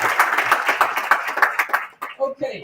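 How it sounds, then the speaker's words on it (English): Brief round of clapping from an audience for volunteers at a civil dialogue meeting, rhythmic hand claps fading out with a voice starting near the end. "can we just encourage our volunteers and give them a round of applause?"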